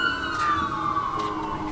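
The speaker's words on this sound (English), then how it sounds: "Now, second batch of sirens going by." Emergency vehicle sirens pass by outside, a steady wailing tone gliding slowly downward as the vehicles move off, moderately loud and heard alone without any talk.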